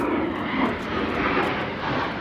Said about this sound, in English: Jet noise.